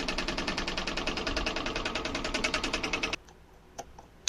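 An electric fan motor with worn bushings whirs with a rapid, rhythmic chopping pulse like helicopter blades, then cuts off abruptly, leaving a few faint clicks.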